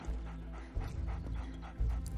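A dog pants quickly and steadily in 7 Days to Die, breathy huffs repeating close by with a few louder bursts and no voices.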